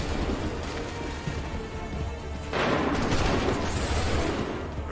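Massed musket volleys from line infantry in Assassin's Creed III, a dense, continuous crackle of gunfire that swells louder halfway through, with no speech.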